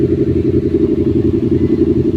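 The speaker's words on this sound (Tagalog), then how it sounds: "ang tunog ng tambutso" A motorcycle's exhaust idling or running steadily close by on a trip near Subic, a loud, low, rhythmic throbbing pulse that stays even throughout with no talking.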